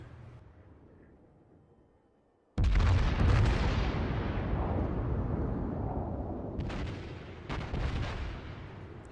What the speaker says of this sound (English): I will take a couple shots at this Myogi since he's at the edge of my range.